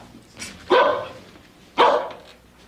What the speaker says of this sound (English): Rose brought a dog home from the supermarket.